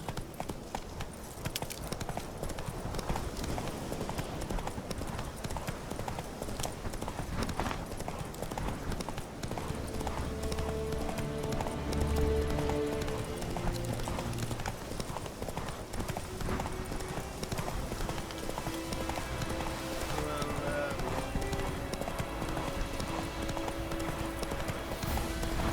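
Roach the horse gallops through The Witcher 3, hooves clip-clopping in a steady rapid rhythm for the whole stretch over game music and ambience, with a short spoken voice partway through.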